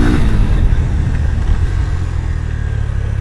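A Honda X Blade 160cc motorcycle being ridden gives off a loud, close, steady engine rumble with wind buffeting, holding fairly even and easing slightly toward the end.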